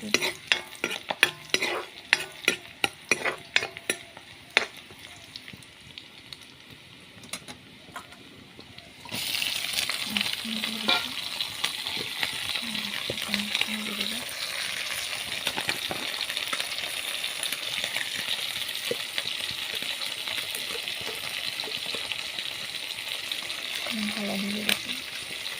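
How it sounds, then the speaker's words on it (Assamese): Fish goes into a pan of fried ginger, garlic and onion: scattered clinks of stirring first, then a steady loud sizzle of frying that continues to the end, with a faint voice now and then. "ভালদৰে ভাজি লোৱাৰ পিছত আমি মাছখিনি দি দিওঁ।"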